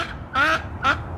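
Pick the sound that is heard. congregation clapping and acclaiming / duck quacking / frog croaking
duck quacking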